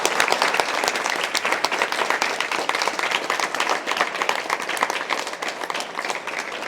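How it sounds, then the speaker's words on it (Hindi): A crowd at a direct selling network marketing meeting claps loudly and continuously, giving dense, energetic applause with no talking over it. "सभी लोग जोरदार तालियां बजाएं।"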